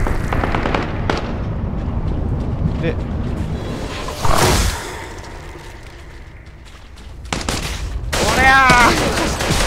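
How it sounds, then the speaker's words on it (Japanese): Gunfire in the horror survival game Hide Or Die: a few loud sharp bursts, mainly one around the middle and a heavier stretch near the end, under a player's voice. "あ、銃声がする。"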